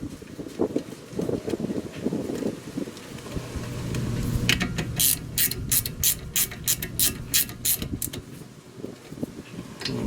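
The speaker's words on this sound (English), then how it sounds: "Once it starts, then you use your wrench, 17 millimeter." A 17 mm ratchet wrench turns a brake bolt on a 2004 Mitsubishi Montero during brake service, giving a fast run of sharp, close clicks in the second half over low garage rumble.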